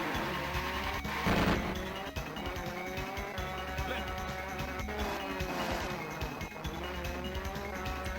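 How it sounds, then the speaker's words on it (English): Car engine roar and tire noise from a Neo Geo racing video game on an African stage, a steady, dense drone with a brief burst of skidding about a second in, playing continuously without a break. "some great car sound effects."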